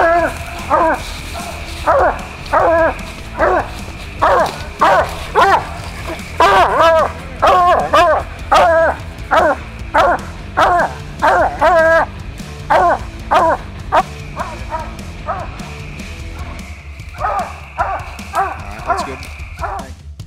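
Coon hounds, including a Grays Rack Em Willy, bark at a treed raccoon during a night hunt, a steady run of loud, close, ringing bawls and chops repeating through the whole stretch, with a voice faintly underneath.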